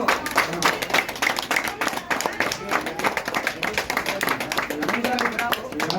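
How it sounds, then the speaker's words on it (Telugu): An audience at a Yoga Day event gives a sustained burst of fast, irregular hand clapping, close and lively for several seconds, with a few voices mixed in. "గట్టిగా గట్టిగా చప్పట్లు"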